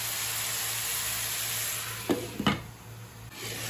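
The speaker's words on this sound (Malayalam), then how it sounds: "ഇളക്കി കൊടുക്കാം ചിക്കനിലുള്ള വെള്ളമൊക്കെ ഇറങ്ങി വരട്ടെ" Chicken curry cooks in a pan with a steady low sizzle, broken by a few distinct scraping stirs of a spoon against the metal near the middle.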